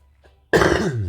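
A single sharp cough breaks a brief silence, close and fairly loud.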